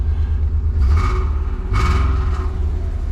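A Nissan 300ZX convertible engine with a misfire turns over and catches, with a low steady rumble and two brief rising revs before settling into a running idle.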